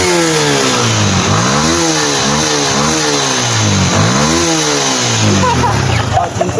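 A motorcycle engine with a fuel system fault starts and runs loud and close, revving up and down in repeated swells before settling briefly, a sputter at the end.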